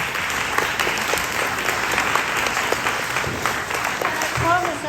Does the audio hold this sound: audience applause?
yes